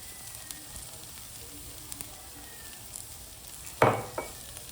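Crushed ginger and garlic drop into a frying pan of onions, giving a low steady sizzle and then one sharp, loud burst of hissing followed by a smaller one, close by, with no talking.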